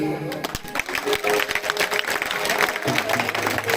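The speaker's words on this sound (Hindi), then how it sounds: "पहली ताली सुंदर दरबार के लिए" A crowd claps at a devotional Shri Balaji Maharaj sankirtan gathering in Dhigawada, Rajgarh, with a musical group present. Steady, moderately loud clapping continues throughout over sustained tones.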